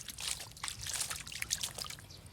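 Water splashes and trickles over a toy truck, a bright, irregular dribbling and spattering heard up close for a couple of seconds with no talking.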